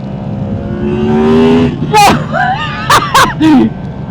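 A Yamaha motorcycle engine accelerates hard, its whine climbing in pitch for under two seconds before a rider's loud excited shouts take over.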